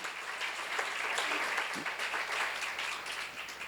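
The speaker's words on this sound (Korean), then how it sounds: "박수로 하세요" Applause from a congregation at a church seminar, a soft, even wash of clapping that holds steady throughout at a moderate distance.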